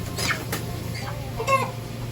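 Meat chickens cluck softly in short bursts over a steady low hum during butchering, with a few sharper calls standing out near the middle.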